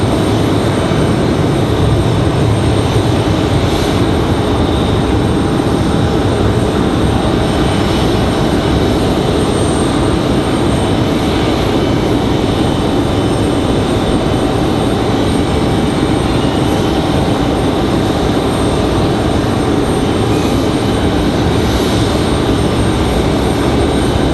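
A jet airliner at Raleigh-Durham International Airport produces a loud, steady engine roar that fills the whole span without a break. It sounds close and heavy throughout.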